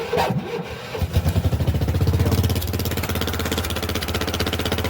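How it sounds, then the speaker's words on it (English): A Predator 420 engine on a golf cart cranks and starts with a little choke, catching after a second into a loud, steady, throbbing idle close by. "With just a little bit of choke, this thing starts right up pretty easy most of the time."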